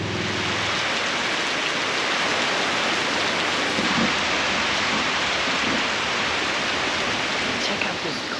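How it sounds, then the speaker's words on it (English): Steady rain pours down close by at a campground, a constant hissing patter on the surfaces around, with no pauses or gusts. "because here comes the rain."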